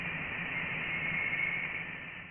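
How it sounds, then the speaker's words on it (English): Interstellar plasma density waves recorded by the Voyager spacecraft and converted to sound, heard as a steady, faint, hissing band of noise with a thin whistling tone rising through it, continuous and unbroken for a couple of seconds. "This is the sound of interstellar space."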